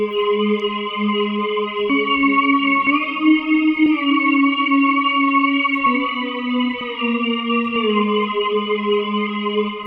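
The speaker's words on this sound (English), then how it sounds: "So let's go ahead and add a reverb to it." A held Native Instruments Razor synthesizer tone drones with shifting notes, its sound smeared by a lingering reverb wash, loud and steady throughout.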